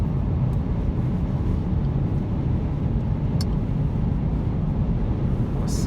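Inside a 2015 Lincoln MKZ hybrid cruising on the highway with the sunroof open on a crisp day: a steady, even road and wind roar fills the cabin without a break.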